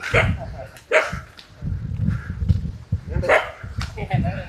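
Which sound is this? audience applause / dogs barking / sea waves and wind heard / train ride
dogs barking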